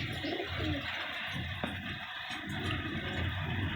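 Teddy pigeons coo softly amid a steady background hum, several birds calling at once at close range, low and continuous rather than loud.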